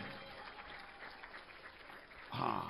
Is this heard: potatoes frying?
no